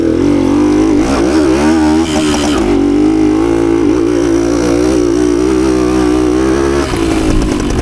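A 52-year-old Suzuki TS185 trail motorcycle revving hard over a log hop, its two-stroke engine loud and close, pitch surging and dipping with the throttle throughout.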